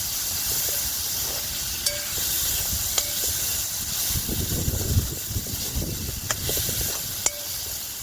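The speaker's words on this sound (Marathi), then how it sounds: "आता टमाटर पण मी मिक्स करून घेते" Finely chopped tomatoes frying in a pan over a wood-fired chulha, a steady hissing sizzle broken by several sharp spoon clacks against the pan as they are stirred.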